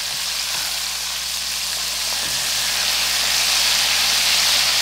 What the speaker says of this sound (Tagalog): Mga ilang segundo na lang ang pagprito